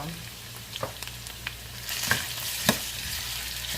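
Potatoes frying in a pan on a ceramic stovetop at medium heat, a soft continuous sizzle broken by a few sharp stirring scrapes and clicks, close up with no voices.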